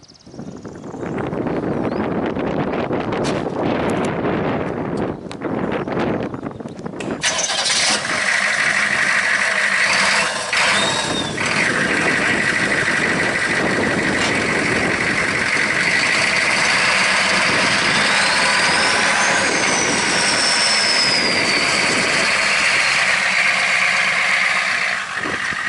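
A monster truck engine idles, then surges louder into a steady sustained roar in an open field, with wind buffeting the microphone throughout.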